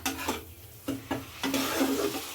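Whisked sour yogurt going into an oily, frying spice paste for a Bengali-style paneer masala, with a few soft spoon scrapes and taps against the pan over a low sizzle.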